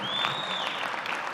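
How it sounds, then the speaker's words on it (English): A crowd at the ribbon-cutting for the new UBS Arena bursts into dense, continuous applause for the Islanders hockey team, with a whistle rising above the clapping. "Let's give a round of applause for the Islanders."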